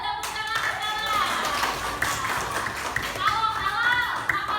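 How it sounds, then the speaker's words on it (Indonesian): Elementary schoolchildren clap together in a classroom, quick hand claps mixed with loud, chanting young voices that dominate much of the sound. "Bagus, tepuk tangan sekarang."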